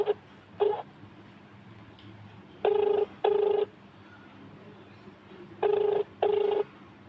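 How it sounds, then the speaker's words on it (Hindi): A telephone call rings out unanswered, with three loud double-burst rings in a steady repeating rhythm over a low background hum. "फ़ोन नहीं उठा रहा है"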